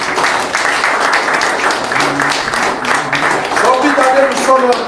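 Church congregation applauding to acclaim the Lord during a French-language service, sustained clapping throughout with voices and singing mixed in.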